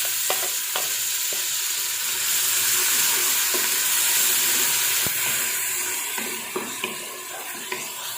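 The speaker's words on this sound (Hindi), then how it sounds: "एक मैंने डाल दिया प्याज चॉप किया हुआ" Chopped onion fries in two large spoonfuls of hot cooking oil for dhaba-style dal tadka, giving a loud, steady sizzling hiss broken by occasional stirring clicks close by.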